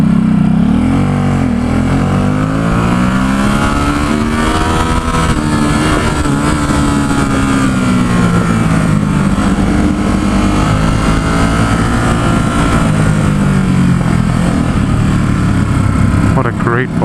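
A 2017 Ducati Supersport S ridden through San Francisco streets, its engine droning loud and steady with rising and falling pitch as it shifts, wind noise close around it for the whole stretch.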